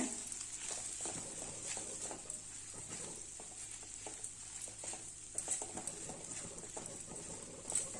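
Cooked rice stirred into a simmering cowpea pod (karamani) mixture in a pan over low heat, a soft patter of scraping and stirring with faint scattered clicks, no talk.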